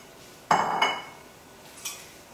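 A diced medium onion and about three cloves of garlic go into a sauce pot, giving two sharp clattering knocks of metal against the pot, close and fairly quiet, with a hushed pause between them.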